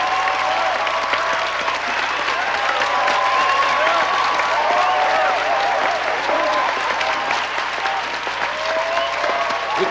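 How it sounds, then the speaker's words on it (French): A crowd applauds the newly crowned winner of a school beauty pageant, a steady, loud wash of continuous clapping throughout with a faint background tone and some murmuring voices. "Applaudissons bien fort cette nouvelle Miss Interlycée."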